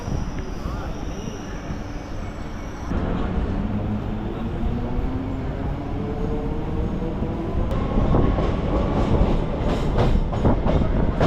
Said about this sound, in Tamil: இப்போ ட்ரெயின் உள்ளே என்ட்ரு ஆகுறதாங்க திருவல்லிக்கேணி ரயில்வே ஸ்டேஷன்